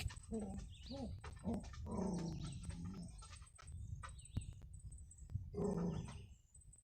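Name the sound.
dog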